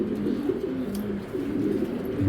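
A tournament pigeon coos close by, making low, rolling, repeated coos that run continuously and fairly loudly, with no other sounds.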